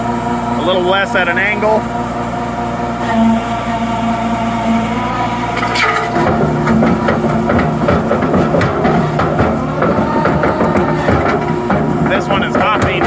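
A New Holland skid steer engine runs steadily near 3/4 throttle beside a jaw crusher working concrete, a loud continuous drone with rattling and clanking that grows rougher midway, while a person talks briefly over it.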